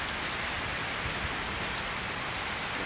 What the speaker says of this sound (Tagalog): It's raining in Cebu City.